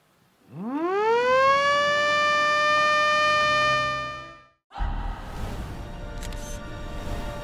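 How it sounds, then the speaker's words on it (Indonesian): A civil defense siren at an airport inauguration ceremony winds up and holds a steady wailing tone for several seconds, then cuts off, leaving a rumble of crowd noise and movement. "Dilanjutkan dengan penekanan tombol sirine dan penandatanganan prasasti."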